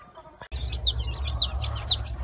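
Several high, thin chirps repeat in quick succession from chicks in a garden, over a low steady rumble of machinery or wind.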